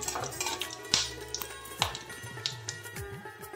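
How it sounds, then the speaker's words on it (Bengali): Whole dried red chillies, cumin seeds, cinnamon, cardamom and cloves stirred briefly in hot oil in a pan for a tempering, with a few clinks of a utensil against the pan over a faint sizzle, close and alone. "ফোড়নটা কয়েক সেকেন্ড নেড়ে নেব।"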